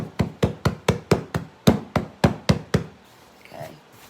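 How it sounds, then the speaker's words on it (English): Dough being knocked against a floured board to shake off excess flour, a quick run of about eleven sharp, evenly spaced thumps close by, fading to a couple of softer handling sounds. "Knock off some of that excess flour."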